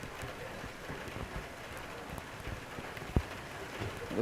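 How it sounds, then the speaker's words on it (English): Heavy torrential rain pours down over an outdoor hockey stadium during a women's match, a steady wide hiss of downpour with one sharp knock near the end. "Torrential downpour"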